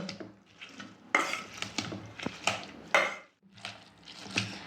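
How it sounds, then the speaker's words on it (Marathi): Boiled cauliflower and peas being mashed in a pot for pav bhaji, irregular close scraping and knocking of a masher against metal in uneven bursts. "आधी फ्लावर आणि मटार हे पहिले मी मॅश करून घेते"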